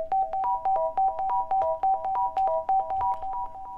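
A plucky synth pattern in FL Studio is sidechained so each short bright note pumps in volume, giving a quick bouncing rhythm that repeats steadily and sits alone in the mix.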